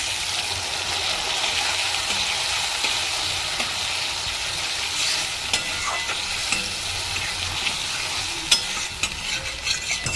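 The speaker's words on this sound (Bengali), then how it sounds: "এবার আমি এক কাপ দুধ দিচ্ছি" Milk is poured into a potato curry frying in oil and stirred, a steady broadband sizzle with scraping of the spoon throughout and an occasional clink, close and fairly loud with no talking.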